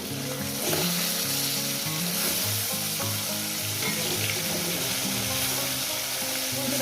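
Rohu fish frying in a pan: a steady, close sizzle and crackle of hot oil throughout, with a low tonal hum underneath.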